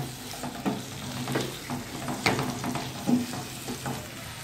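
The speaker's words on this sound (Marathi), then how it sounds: "त्याला थोडं मोठा गॅस करूया, नंतर परतून घेऊया आपण त्याला।" Peas and potato sautéing in a pan over a high flame, a soft steady sizzle punctuated by irregular stirring scrapes and taps of a spoon against the pan.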